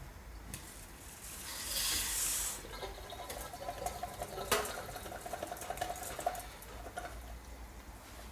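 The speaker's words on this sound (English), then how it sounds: "just drain them off" Cooked fat hen seeds being drained, water pouring and splashing briefly into a sink, followed by quieter trickles and small clatters nearby, with no voices.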